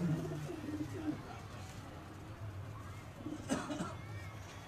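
Pigeons coo in low, soft bursts near a rooftop in Gujranwala, a few rounded calls repeating against steady background noise, with faint voices nearby.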